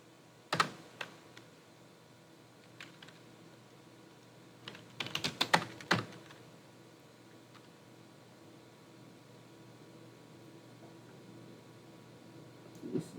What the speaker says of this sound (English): I'm using some cheap China keyboard here